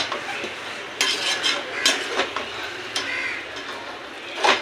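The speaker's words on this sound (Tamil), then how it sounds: "நல்லா கலக்கி விட்டுக்கலாம்." Goat lung chukka being stirred in a pan, with metal spoon scrapes and clinks sounding at intervals close by over a low background hum.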